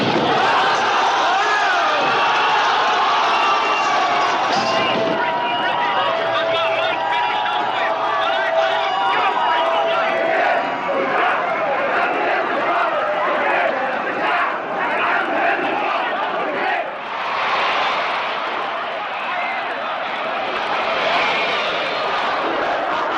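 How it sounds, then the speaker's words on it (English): An outraged crowd shouts and clamours in a dense, loud, continuous roar, with a brief dip and surge near the end. A voice speaks over it throughout. "there are new reports of outraged crowds demanding action"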